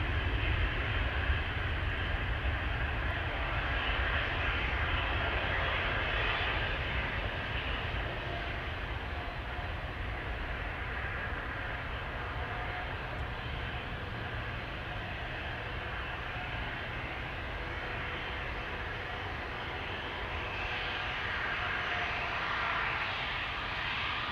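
Jet airliners departing Amsterdam Schiphol Airport, heard as a steady, loud, broadband engine roar that holds through the whole stretch without voices, swelling slightly near the start.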